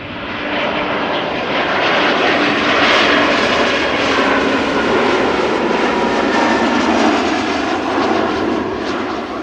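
An airliner at Amsterdam Schiphol Airport gives a loud, steady engine roar that swells slightly and holds for the whole stretch, close and unbroken, with no voices.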